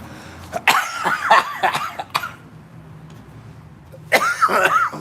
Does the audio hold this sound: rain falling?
no